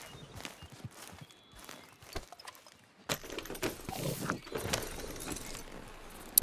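A horse in Red Dead Redemption 2 moves with soft hoof clip-clops and footfalls, quiet at first, then a busier, louder stretch of hooves and jingling tack.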